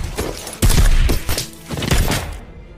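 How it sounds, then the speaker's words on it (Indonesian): A film shootout against armed terrorists bursts out in loud, sharp gunfire, with several heavy blasts and thuds crowding together before the sound cuts off abruptly. "baku tembak pun tidak dapat dielakkan"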